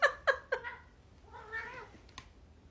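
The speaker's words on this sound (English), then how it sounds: "The little kitty battle happening behind me is very real." Two cats named Mila and Fred scuffling in a playful kitty battle, a few sharp meows in quick succession followed by a drawn-out yowl and a final short cry, fairly quiet and close, no talking.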